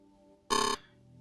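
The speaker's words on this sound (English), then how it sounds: "Do you have a doorbell that sounds like this?" A harsh electric doorbell buzz, one loud steady burst lasting about a quarter second over a low background hum.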